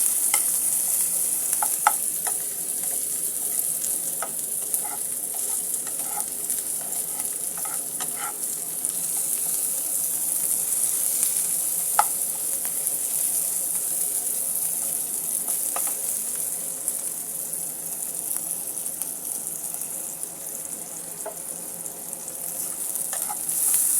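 Onions frying and being stirred in a pan, a steady close sizzle across the whole stretch with scattered clicks of a utensil against the pan, no talking.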